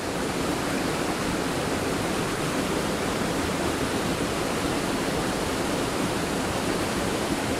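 Water from the Blue River at Cooildharry on the Isle of Man pours with good force into the river below, a steady, full rushing roar that carries on unbroken and alone.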